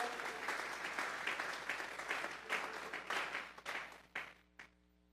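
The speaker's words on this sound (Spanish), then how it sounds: "Vamos a regalarle ofrenda de palmas al Dios de la gloria." A church congregation gives a round of applause, the dense clapping thinning out toward the end into a few last separate claps before quiet, with a faint steady hum underneath.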